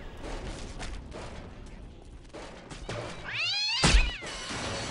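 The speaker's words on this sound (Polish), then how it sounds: "Kot mnie zabił?" A cat meows loudly in a survival video game, a drawn-out rising and falling yowl near the end that follows softer scuffling and thuds, with a sharp hit landing right after it.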